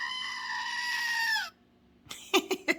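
A goat gives one long, loud, strained bleat lasting about a second and a half, then after a short pause several sharp clicking or tapping sounds follow close by.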